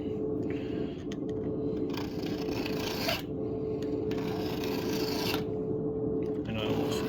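A hand file rasps down the rakers on a Stihl chainsaw chain in close, rhythmic strokes, each a second or so long with short pauses between, over a low steady hum.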